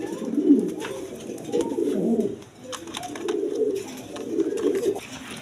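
A pair of Rasgolla pigeons coo close by in repeated low, throaty rolling phrases, broken by a short pause midway, with faint background noise.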